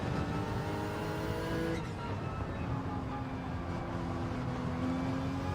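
GR3 race car engine in a racing video game at Suzuka, a loud, continuous engine drone with shifting pitch as the throttle rises and falls, a brief gear-change dip partway through.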